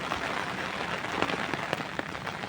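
Steady rain falls outdoors in a pasture where a cow keeps grazing, a soft continuous hiss of drops hitting surfaces with a few sharper patters, fairly quiet and even, with no voices.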